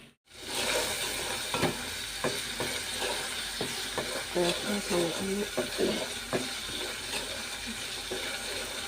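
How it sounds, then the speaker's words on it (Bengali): Egg frying in a pan in a home kitchen gives a steady, loud sizzling hiss, broken by sharp scrapes and clinks of stirring, with a voice briefly murmuring underneath. "এখন এখানে ডিম ভাজা করতেছে"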